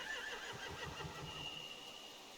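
Horses neigh and whinny in The Walking Dead Final Season video game, a faint, brief cluster of calls under a steady background ambience with no talk.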